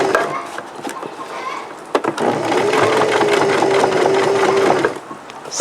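Sewing machine motor whirring steadily as it strains against a thick jeans hem, with a brief knock near the two-second mark before a sustained loud hum that cuts off near the end.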